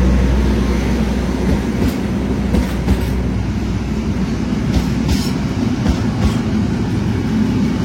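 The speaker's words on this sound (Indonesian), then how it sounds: "kereta api Ciremai ini baru saja masuk dari jalur lintas Pantura ya" Ciremai passenger train rolling into Cirebon station on the Pantura line, a loud continuous rumble of wheels and carriages with a few sharp clacks, close by, with no talk.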